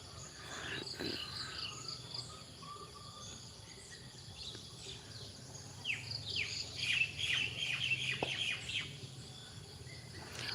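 Birds and crows call through a damp morning after rain, a steady mix of chirps, tweets and squawks over an insect and cricket hum, with a busier burst of calls in the second half.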